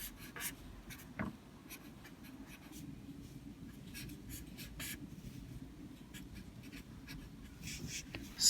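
Pen writing on paper, steady soft scratching strokes with small taps, close and quiet, no talking.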